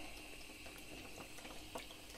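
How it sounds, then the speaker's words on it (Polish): Water is forced out of a diaphragm expansion tank during servicing as its membrane stretches under pumping, giving a steady gurgling, rushing flow with small splashy bursts, close and continuous. "wypycham wodę z zbiornika"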